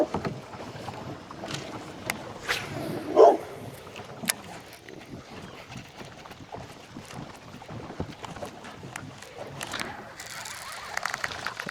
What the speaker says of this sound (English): there's a stupid dog barking, spooking the fish